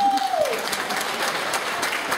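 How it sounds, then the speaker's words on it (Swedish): Steady audience applause at an outdoor festival stage in Hässleholm, a dense continuous patter of many hands that follows a brief spoken cue and holds at an even level throughout. "En applåd!"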